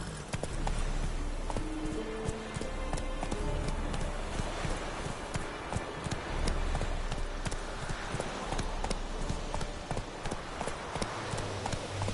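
Horse hooves clip-clop steadily in a video game, a brisk continuous rhythm of sharp clacks over a dense background of game sound, fairly loud throughout.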